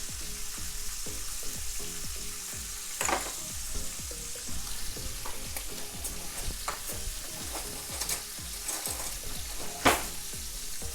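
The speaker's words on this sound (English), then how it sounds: "we'll give that a little stir" Low-carb chili sizzling in a pot while a spoon stirs it, a constant frying hiss broken by repeated scraping strokes and a few louder knocks against the pot.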